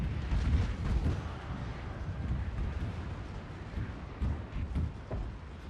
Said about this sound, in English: the Gatling guns have opened up